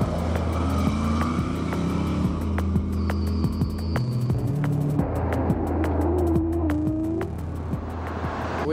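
Four-wheel-drive vehicles on a runway, braking hard from 40 mph, with a steady engine drone and shifting revving tones that rise and fall. A short high squeal sounds near the end, and nobody talks.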